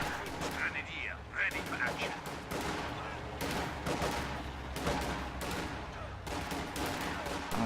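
Gunfire in a Company of Heroes-style strategy video game, with dense bursts of rifle and machine-gun fire crackling continuously, mixed with battle noise throughout.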